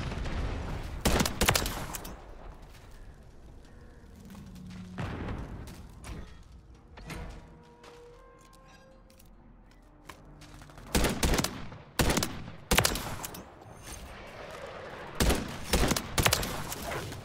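Bursts of rifle fire from a KVD Enforcer in Modern Warfare 3 multiplayer, several sharp shot clusters separated by quieter stretches and heavier volleys near the end, loud and close.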